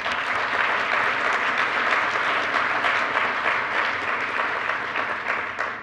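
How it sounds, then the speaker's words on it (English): An audience at a NANOG 74 network operators' meeting applauds steadily, a dense, even wash of many hands clapping that holds for about six seconds before tapering slightly at the end. "We could all give her a round of applause"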